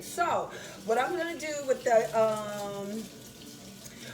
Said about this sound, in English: I'm starting a fresh water in my sink. So I've got my water running.